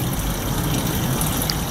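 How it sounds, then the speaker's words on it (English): A small waterfall in a seabird enclosure at the Bronx Zoo makes a steady, close rush of falling water that stays even and loud throughout, with no voices. "We have a little waterfall."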